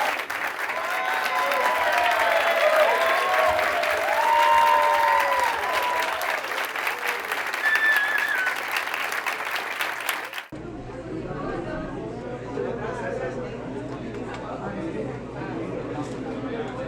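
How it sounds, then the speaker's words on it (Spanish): A crowd applauds percussion teachers at an international percussion ensemble festival, loud dense clapping that runs for about ten seconds and then drops away to quieter room noise and murmuring. "Un aplauso para todos esos maestros."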